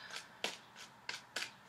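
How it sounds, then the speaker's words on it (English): Tarot cards are shuffled in quiet, crisp riffling bursts, five short flurries in quick succession, close and soft with no talking. "Shuffling and cutting the cards and all of that."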